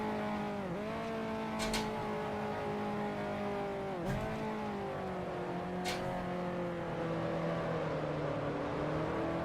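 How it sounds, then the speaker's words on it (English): A Maserati race car engine in the Grand Prix Legends game, set in 1950s–60s Formula One, drones steadily with a few quick dips in pitch as gears shift, continuous and fairly faint, with no talking. "Let's hear the noise. Oh no, that's a Maserati."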